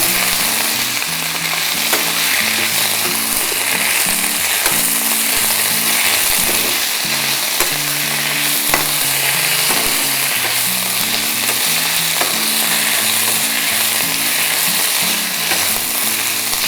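Ingredients fried and stirred in a pan until they change colour, giving a loud, steady, close sizzle that runs without a break.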